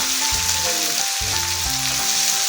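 Carrots frying in hot oil for Nigerian fried rice give a steady, bright sizzle that crackles close up. A musical backing plays underneath.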